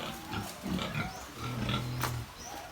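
Pigs grunt at a village fiesta in Cebu, several short low snorts and grunts scattered over a few seconds amid a busy outdoor background.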